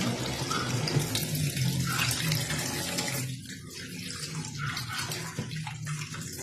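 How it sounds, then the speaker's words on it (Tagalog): Tap water runs continuously into a sink while tilapia is washed underneath, the steady splashing rush shifting slightly as the fish is moved through the stream. "So ngayon, hugasan muna natin yung tilapia para mabilis."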